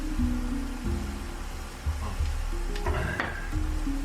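Red onions sizzle steadily in a hot pan while being cooked for butter chicken, a close, continuous frying hiss with a few light clatters toward the end.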